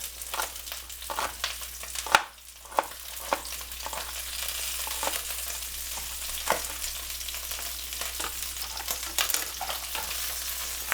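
Onion and garlic fry softly in a pan for a Calabrian pasta al forno, a steady low sizzle punctuated by frequent clicks and clatters of stirring.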